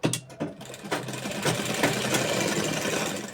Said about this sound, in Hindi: अब यहाँ पर फिर से बिल्कुल किनोर होके हमें सिलाई लगाना है।